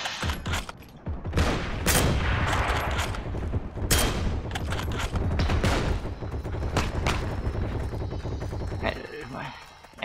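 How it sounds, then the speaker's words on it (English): Dense, continuous gunfire and explosions rage throughout a battle in the World War II shooter Heroes & Generals, with overlapping rifle and machine-gun bursts and heavy booms at close range, loud and relentless until a brief lull near the end. "Everybody's shooting?"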